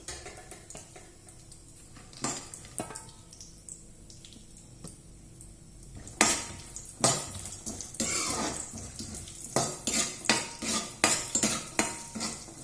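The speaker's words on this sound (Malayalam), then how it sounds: "ആ നെയ്യിലേക്ക് ആദ്യം അണ്ടിപ്പരിപ്പ് വറുത്ത് കോരി വയ്ക്കണം" Cashews fry in ghee for a Tamil Nadu sweet while a metal spoon stirs and scrapes the pan, starting quiet and sparse, then giving way to frequent close clinks and scrapes over a faint sizzle.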